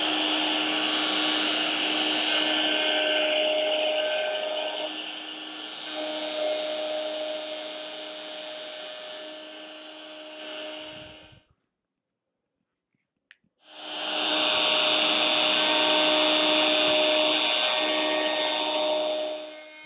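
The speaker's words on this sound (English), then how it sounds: "go ahead and route away the waste for the second bar, making sure to stay within your lines" A router loud and close, routing waste wood out between chisel lines in a center back slat. It runs in a steady high whine for about eleven seconds, goes silent for two, then spins up again and keeps cutting.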